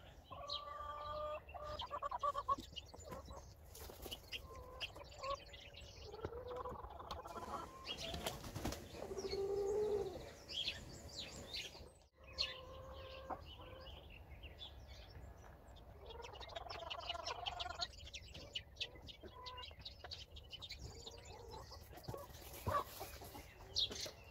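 A brooding hen in a backyard coop clucks and calls in short, soft bursts, with some wing flapping and faint rustling, fairly quiet and close with no talking.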